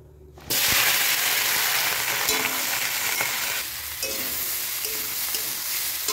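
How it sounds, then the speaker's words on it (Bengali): Chopped spring onions frying in a pan, giving a loud, steady hiss of oil that bursts in suddenly and carries on close to the microphone, easing slightly in intensity partway through, with no voices. "পেঁয়াজকলি ভাজাটা ওদিকে হতে থাক"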